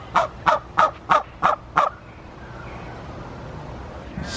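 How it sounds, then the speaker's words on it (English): A turkey at an animal park gobbles in a quick burst of six loud, close rapid calls, then falls quiet into low outdoor background noise. "Hey, turkey."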